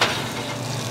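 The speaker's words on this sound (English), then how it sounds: "Kind of stir your pan just like that. You get your butter to emulsify with that wine" Butter and white wine stirred in a hot pan to form a sauce, a steady close sizzle and bubbling lasting under a second, with no talk.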